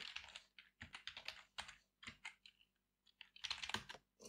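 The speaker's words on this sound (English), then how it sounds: "Open the browser and type it" Quiet, close typing on a computer keyboard as an IP address is entered into a browser, keystrokes coming in short irregular runs separated by brief pauses.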